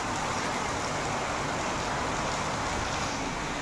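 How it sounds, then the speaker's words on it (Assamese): Heavy rain pours down in a steady, dense hiss that stays even and close from start to finish, with no voices over it. "কি যে বৰষুণ হৈছে নহয়, বাপৰে বাপ, কিমান বৰষুণ হৈছে দেখিছেনে,"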